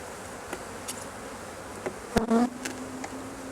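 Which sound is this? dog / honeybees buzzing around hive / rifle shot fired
honeybees buzzing around hive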